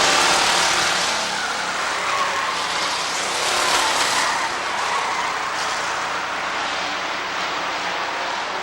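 Field of stock race cars roaring past at the start of a race at Rockford Speedway in 1994, a loud, dense, continuous engine drone that swells slightly and stays steady throughout.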